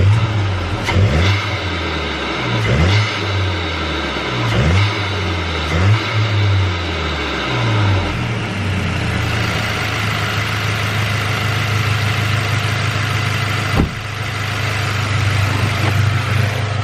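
A VW MK8 GTI with a Neuspeed intake and the hood open, blipped through a series of sharp revs that fall back between each, then settling into a steady close idle with one brief click near the end.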